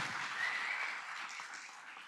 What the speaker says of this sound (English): So please a round of applause for Julie.